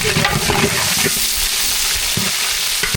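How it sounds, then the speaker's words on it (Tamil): Onions sauté in hot oil with cinnamon and other whole spices for a mutton biryani, a loud, steady crackling sizzle with occasional scraping stirs, close and continuous. "பட்டை வகையெல்லாம் நல்லா பொரிஞ்சிருச்சு வெங்காயம் சேர்த்துக்கலாம்"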